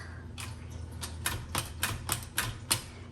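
Antique L.C. Smith No. 8 typewriter from around 1915 being typed on, its sharp metallic keystrokes clacking in an uneven but steady rhythm, close and clear with no talking.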